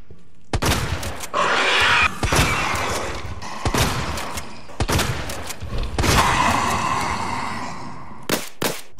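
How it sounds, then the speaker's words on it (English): A shotgun fires at a licker in the video game Resident Evil 2 Remake: several loud, sharp blasts with pauses between them, mixed with thuds and creature noises. "we're gonna test the shotgun on a licker"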